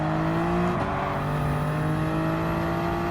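A Gr.3 Toyota GR Supra race car in Gran Turismo 7 at Dragon Trail Seaside drones loudly at steady high revs, with a quick dip and recovery partway through, engine alone without talk.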